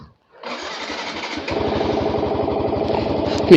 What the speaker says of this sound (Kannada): ಸೊ ಗಾಡಿ ಸ್ಟಾರ್ಟ್ ಮಾಡೋಣ